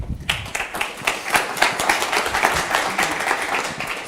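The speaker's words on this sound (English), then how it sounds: "Warm applause, please." An audience at a security conference gives warm applause for an incoming speaker, a steady crowd of hand claps that builds quickly after a brief pause and continues evenly to the end.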